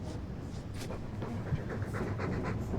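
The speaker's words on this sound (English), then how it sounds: "All that noisy dog breath" A dog pants rapidly and noisily in the Dragon Age 2 video game, quick rhythmic breaths heard close over a low background hum.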